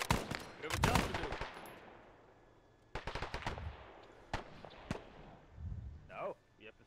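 Gunfire from an enemy gun in the military game Arma 3, heard as sharp cracks and short bursts with reverberant tails, spaced irregularly and fairly close, with a brief vocal sound near the end.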